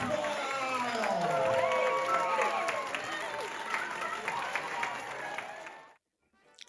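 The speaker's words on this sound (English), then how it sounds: "And the crowd goes wild." Gumball Rally spectators cheer and applaud in a sustained, busy wave of clapping and excited voices that holds for several seconds before cutting off abruptly.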